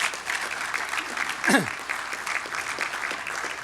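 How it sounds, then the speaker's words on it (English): Sustained applause fills the room at an awards dinner, honoring sponsors and dignitaries, a steady crowd of clapping hands heard from a moderate distance with a brief tone sweep in the middle. "So how about a round of applause for all of our sponsors and dignitaries?"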